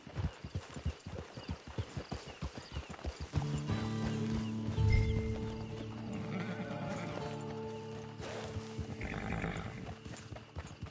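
A horse in the video game Red Dead Online: rapid rhythmic hoofbeats clopping close by, slowing and stopping, then a loud drawn-out whinny and snorting as it settles.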